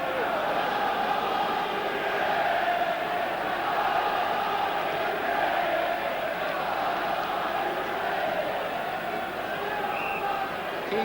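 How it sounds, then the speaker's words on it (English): Football crowd at a 1982 Southampton versus Liverpool match, with a steady, dense roar of voices throughout; a broad, sustained wall of crowd noise that does not clearly separate booing from general stadium clamour. "A bit of booing from the crowd"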